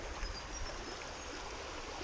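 Water flows down a creek bed at Murrays Corner in a steady, soft rushing and burbling wash, fairly quiet and continuous with no voices.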